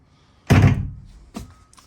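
A boat head door on a pre-owned 2023 AV32 outboard shuts with a single loud, close thunk as its magnetic strip catches, followed by a fainter second knock.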